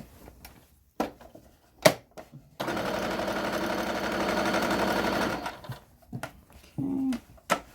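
A sewing machine hums close by in one sustained run of about three seconds while back stitching the bottom of an apron, framed by a few sharp clicks and handling knocks before and after.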